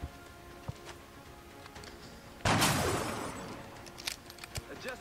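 A sudden burst of weapon fire from the video game XCOM: Enemy Unknown erupts midway through a quiet indoor scene, loud and decaying over a couple of seconds, followed by scattered clicks and game effects.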